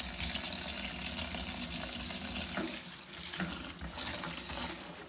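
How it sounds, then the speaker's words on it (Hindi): Spinach is rinsed under a running kitchen tap, with water gushing and splashing steadily into the sink at close range, rising and falling slightly as the leaves are moved about. "सबसे पहले जी पालक धो लेते हैं, थोड़ी सी डालनी है पालक, ताकि मिट्टी वगैरह रेत से जिसके अंदर होती है ना वो निकल जाए।"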